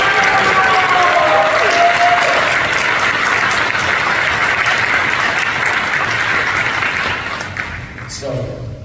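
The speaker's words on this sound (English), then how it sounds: "So let's give them another round of applause." Audience applause fills a convention panel hall at San Diego Comic-Con 2023, loud dense clapping sustained for several seconds before tapering off at the end.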